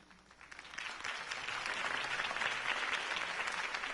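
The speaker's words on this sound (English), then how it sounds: "could have heard that applause" Applause from a crowd in a Batman video game swells up and holds steady, a dense continuous patter of clapping with no voices over it.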